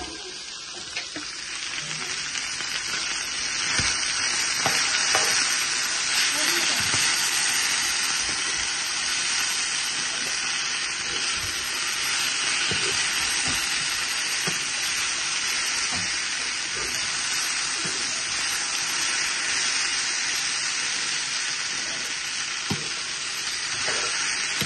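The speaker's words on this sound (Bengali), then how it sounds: "আর এবারে আনিয়ন কষি যাও এরপরে মশলা এড করবো কাঁচামরিচ দিয়ে দিলাম" Onions and green chillies fry in a pan with a continuous loud sizzle and hiss, broken by scattered clinks and stirring scrapes throughout.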